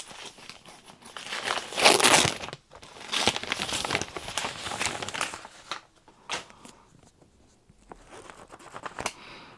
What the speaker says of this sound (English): I'll just unwrap it and then you'll see for yourself.